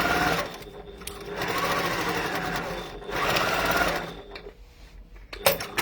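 A sewing machine runs in several close bursts stitching down a zip edge, its rapid needle chatter rising and falling with short pauses between passes and a few small handling clicks.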